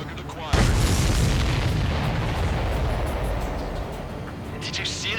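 A supply ship explodes in the Ace Combat 7 flight game with a sudden loud boom, then a long rumbling roar that slowly fades over several seconds, with the drone of aircraft beneath.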